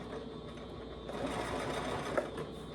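A domestic sewing machine back stitches over a seam to secure it, humming in a fast, continuous needle rhythm close by for a few seconds, alone without talk.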